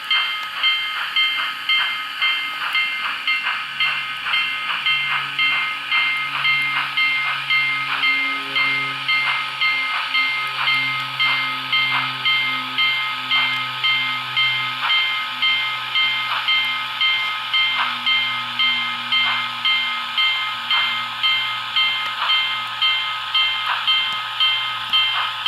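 N-scale model of steam locomotive 844 at Green River, giving a steady loud hiss with a rhythmic repeating chuff pattern and sustained whistle-like tones throughout, with no talking.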